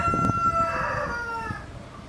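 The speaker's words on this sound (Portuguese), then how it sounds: "E o galo tá apaixonado." A rooster crows once, a loud, drawn-out call that rises and then falls away, preceded by a brief click and followed by low background murmur.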